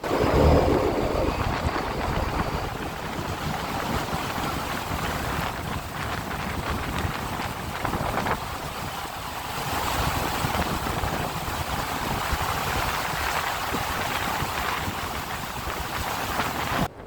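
Steady roaring wind with rain hiss and a low rumble of a deep-sea fishing boat, continuous and fairly loud throughout with no voices.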